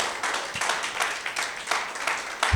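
A church congregation claps together after a call to applaud Jesus during a Spanish-language sermon, a dense, steady patter of many hands with a few sharper bursts, fairly close and without talk.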